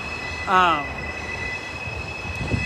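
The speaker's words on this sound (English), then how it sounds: "that train is loud" A loud train passing through town, its wheels squealing in a short high-pitched burst over a steady rumbling roar that continues throughout.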